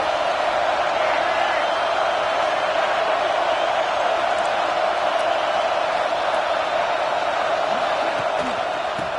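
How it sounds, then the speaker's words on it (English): A large stadium crowd at an Ohio State football game roars on third down in a sustained, dense wash of cheering and shouting, steady and loud with no breaks. "The Buckeye crowd alive on 3rd down."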